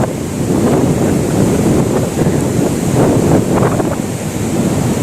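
Water of the Bhadra river in Karnataka rushes steadily and loudly for the whole stretch, its broad wash mixed with gusting wind buffeting the microphone, with no one speaking.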